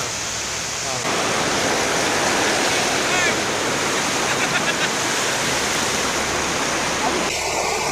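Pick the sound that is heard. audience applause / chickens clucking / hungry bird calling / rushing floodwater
rushing floodwater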